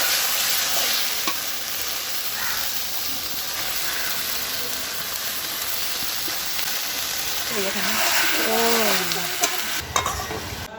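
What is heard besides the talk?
chicken meat added to fried spice masala, sizzling on clay stove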